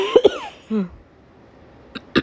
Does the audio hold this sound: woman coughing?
yes